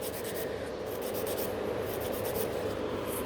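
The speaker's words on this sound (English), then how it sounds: "So keep filing one side, other side, one side, other side." Nail file working a builder gel nail extension on a form, a close, continuous scratchy rasp with rapid back-and-forth strokes, steady and alone.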